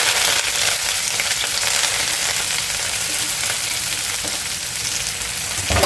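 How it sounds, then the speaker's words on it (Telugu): Onions, green chilies and curry leaves frying in hot tempering oil, a dense, even sizzle running steadily throughout, with a brief louder burst at the end. "అలాగే నేను ముందు తరిగి పెట్టుకున్న ఆనియన్స్, పచ్చిమిర్చి, కరివేపాకు వేసుకుంటున్నాను."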